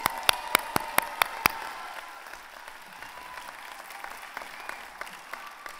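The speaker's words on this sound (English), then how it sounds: "Let's give everyone a round of applause." Audience applause at a university convocation and commencement ceremony in Houston, opening with a few sharp, loud claps before spreading into a steady, sustained round of clapping from the crowd.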